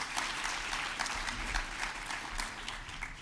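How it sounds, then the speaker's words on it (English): An audience at a diocesan World Communications Day conference keynote applauds with steady, continuous clapping from a crowd heard at a moderate distance. "so let's give them a round of applause"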